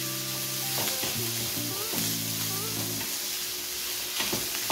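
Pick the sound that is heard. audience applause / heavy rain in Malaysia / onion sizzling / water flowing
onion sizzling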